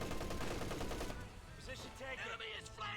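Rapid bursts from a .50 cal machine gun in the video game Company of Heroes 2, a dense rattling volley that fills the first second, then scattered shots and battle noise continue beneath.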